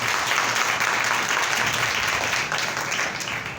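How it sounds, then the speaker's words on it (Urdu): A church congregation claps loudly and steadily in a dense, continuous wash of applause at a Good Friday evening service, filling the whole moment without any voices on top. "آئیے زوردار تالیاں خداوند کے لیے بجائیں۔"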